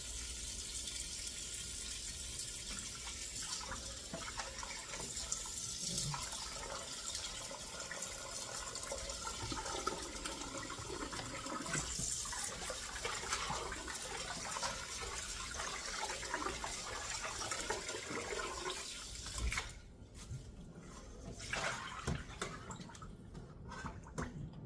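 Chicken wings being washed in water with lemon and vinegar, a steady splashing and running-water wash heard close for most of the stretch, fading near the end.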